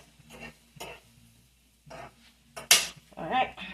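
Onions being stirred in a hot pan as they caramelize for a breakfast, with spoon scrapes and clinks against the pan over a soft sizzle in short bursts.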